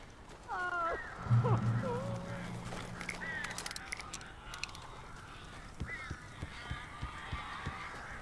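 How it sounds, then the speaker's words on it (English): Strange bird calls echo inside a cabin in the video game Alan Wake, a few honking, squawking cries up front that thin out into sparse chirps over ambient noise and low rumbling tones. "These birds are weird."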